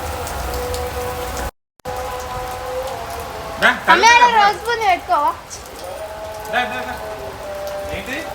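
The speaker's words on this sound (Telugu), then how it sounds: "సో ఫుల్ వర్షం పడుతుంది." Steady heavy rain hisses throughout, with a short dropout and people talking over it in the middle.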